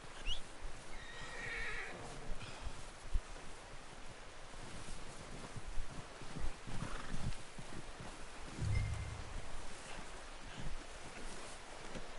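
A horse in Red Dead Redemption 2 whinnies and snorts amid soft hoof clops over a steady outdoor ambience, fairly faint, with a short louder thud partway through.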